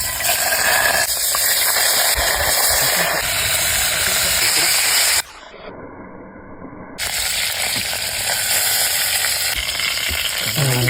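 Food frying in hot oil gives a loud, continuous sizzle and hiss close by, with stirring scrapes. The sizzle briefly drops away for a moment mid-way, then resumes at full strength.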